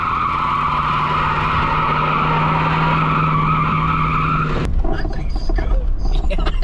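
A $350 Cadillac doing a tire burnout, a loud steady roar of engine and squealing, skidding tires that cuts off abruptly, followed by rattling car noises and a voice.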